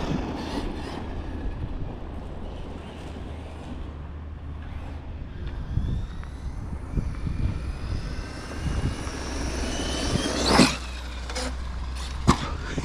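A Traxxas Sledge 6s RC truck on Method RC Geoform tires rolls over small loose stones at about quarter throttle, its electric motor whining steadily over a continuous gravelly rumble, with a couple of sharper crunches near the end.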